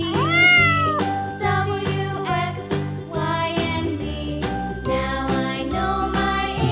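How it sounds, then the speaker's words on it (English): A drawn cartoon cat meows in a rising, drawn-out cry near the start, followed by softer meows over a steady, bright children's tune with tinkling chimes that carries on throughout. "Nice cat."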